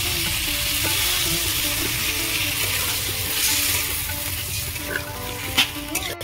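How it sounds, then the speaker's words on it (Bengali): Potato and cauliflower sizzle in a pan, a dense continuous frying hiss with a few utensil clicks near the end, close and moderately loud; the sound of water being added is not distinct from the frying. "আলু আর ফুলকপি দিয়ে আমি ভালো করে কষিয়ে নিয়েছি। এবার আমি জল দেবো।"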